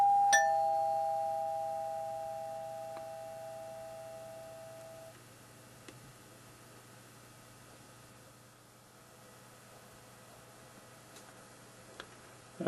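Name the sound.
traditional doorbell tune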